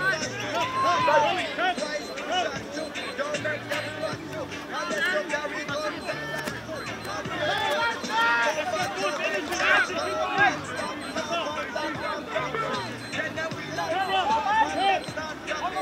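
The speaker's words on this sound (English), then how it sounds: "It's nice to see a good crowd here today at Cornwall Park." Spectators at a rugby game in Cornwall Park make a diffuse murmur of crowd chatter and babble, with a nearby voice talking over the background hubbub.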